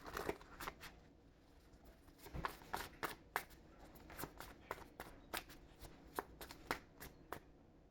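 Tarot cards are shuffled repeatedly, with quick bursts of riffling and slapping in an uneven rhythm, fairly quiet and close, with no voices.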